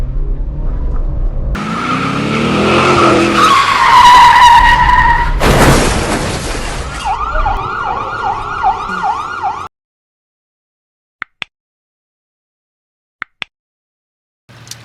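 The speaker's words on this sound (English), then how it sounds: "I'm handbrake parallel parking that Fiesta in between them two cars" A Ford Fiesta handbrake-skids into a parallel parking space between two cars, with a loud revving engine and long, screeching tyre squeals for several seconds. Then it goes abruptly silent except for a few sharp clicks.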